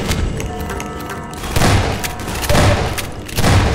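Rapid weapon fire in Half-Life 2: Episode 2 as soldiers rappel into a building, with heavy booming shots and thuds arriving in loud bursts roughly every second amid ongoing battle noise.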